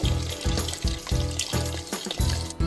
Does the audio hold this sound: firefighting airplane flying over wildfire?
no